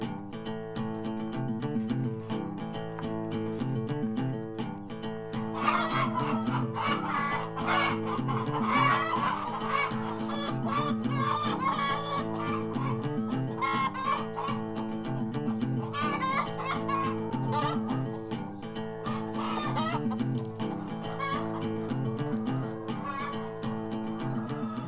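Hens on an organic egg farm in the Alpilles cluck and chatter steadily alongside continuous music, with someone talking briefly over the flock.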